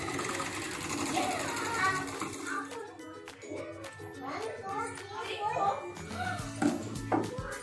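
An overlock sewing machine finishing the stitching on a dress, whirring in bursts near the microphone, with people talking over it.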